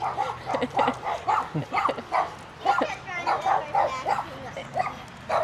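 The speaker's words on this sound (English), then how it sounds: "Got a sweet puppy dog, number 5." A puppy barks repeatedly in quick yips and woofs, close by at a campground site, with people's voices mixed in.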